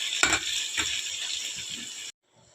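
Tomatoes with salt cooking in a pan give off a steady, close sizzle that runs for about two seconds with a couple of soft stirring clatters, then cuts out into near silence.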